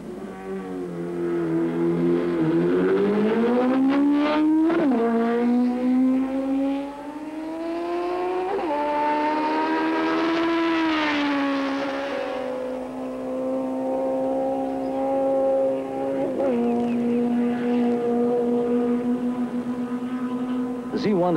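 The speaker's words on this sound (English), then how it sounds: "everyone comments on the rich, muscular, throaty sound of the Z1 engine and how much like a Grand Prix race car it sounds." A 1973 Kawasaki Z1 motorcycle on a Daytona speed record run gives a rich, throaty four-cylinder howl, rising through gears in long sweeping climbs with brief drops at each shift, loud and close and sustained throughout.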